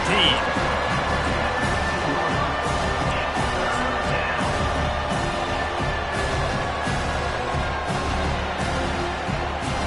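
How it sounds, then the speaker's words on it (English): A large football stadium crowd roars continuously at a Gators game, a dense, loud wall of cheering and shouting that holds steady throughout with no clear pauses. "this crowd is bringing down the house."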